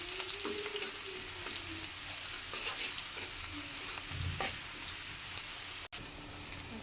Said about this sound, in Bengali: দিয়ে দিচ্ছি পেঁয়াজ আর মরিচ